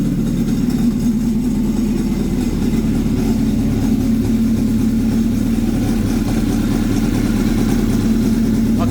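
A Honda Aquatrax R12X jet ski engine idles steadily and close, a loud continuous low drone with a constant even hum and no noticeable rise in revs, with no voices.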